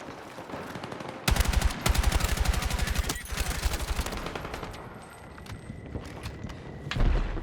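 Battlefield 6 video game gunfire: a long, loud burst of rapid automatic fire, followed by quieter scattered shots and thuds, then a final louder burst at the end. There is no speech.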